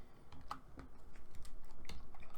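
Typing on a computer keyboard, heard as quiet, close key clicks that start sparse and quicken into a steady run of keystrokes.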